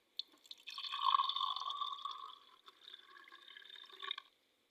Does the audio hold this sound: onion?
no